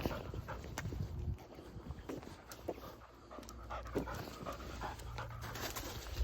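A dog pants quietly and steadily at close range in a fairly calm setting, with a few faint clicks and shuffles in the background.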